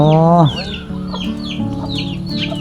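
Chickens roam around a house in Thailand, giving a loud drawn-out squawk and then repeated clucking in an uneven rhythm, heard close by.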